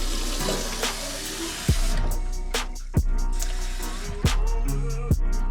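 Warm water runs from a tap into a cup in a kitchen, a steady close rush and trickle with a few sharp knocks and clatters along the way.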